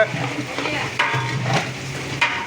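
A big batch of tomatoes for Kanchipuram-style tomato rice, 25 kilos, sautéed and stirred in a large pot, with a steady sizzle under repeated scraping stirs and a few louder strokes.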